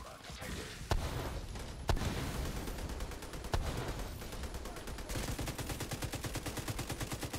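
Sustained automatic gunfire from a hostile turret in the shooter game The Division 2, loud rapid shots with a few heavier impacts, ending in a fast steady rattle of fire.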